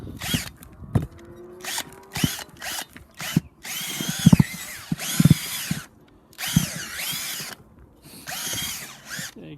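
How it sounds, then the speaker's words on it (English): A small handheld drill churning dirt in a backyard wheelbarrow whines in repeated loud bursts of a second or so, with rough scraping and knocking of soil and metal between the runs. "You can just mix it up with your little drill there."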